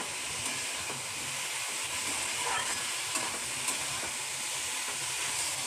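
Cauliflower frying in a pan over a raised gas flame, a dense, loud, continuous hiss of sizzling oil that stays even throughout, with no voices.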